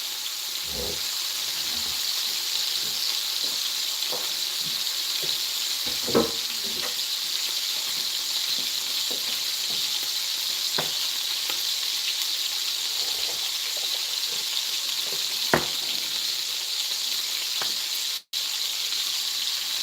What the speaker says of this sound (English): Yeah, that's a good sound, isn't it? Sizzling.